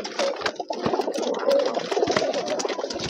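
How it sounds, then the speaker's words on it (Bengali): Pigeons on a pigeon farm cooing in a steady, crowded chorus, with soft wing flutters and scattered bird noises layered throughout, fairly close and continuous. "দেন কবুতর গুলো দেখেন"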